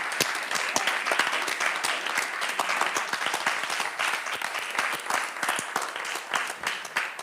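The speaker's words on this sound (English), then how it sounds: "let's big applause for everybody." Audience applause at a demo day event, a steady wash of many hands clapping for over seven seconds with individual sharp claps standing out, fairly loud and continuous with no talk over it.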